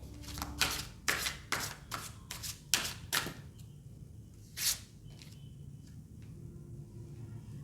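Tarot cards are shuffled in a quick run of crisp riffles and flicks, followed by quieter single card snaps as cards are drawn and laid down, close and clear with no voices.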